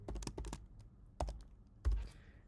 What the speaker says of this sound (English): all we need to do is type in the verification code